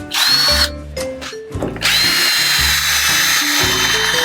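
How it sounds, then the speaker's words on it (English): A power drill whines loudly up close, its motor pitch shifting as it bites through two wooden boards, briefly easing off before surging again steadily. "you want to drill all the way through both boards"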